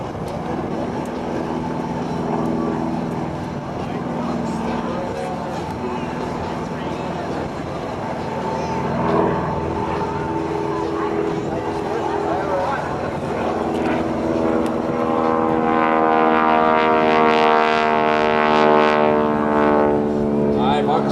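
A Stearman biplane's radial engine drones steadily during aerobatic maneuvers at an airshow wingwalking act, its pitch and loudness rising and swelling as the aircraft maneuvers, with a voice talking over it.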